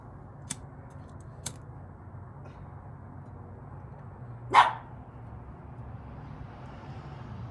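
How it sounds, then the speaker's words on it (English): Dogs, among them an English bulldog, bark faintly in the distance at a backyard brisket cook: two short far-off barks, a louder single bark in the middle, and quiet background hum with no talk. "Guess you guys can hear my dogs."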